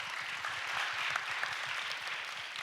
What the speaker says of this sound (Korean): 우리 청년 선교사를 무사히 잘 다녀오신 두 분께 박수를 한번 보내드리고 싶어요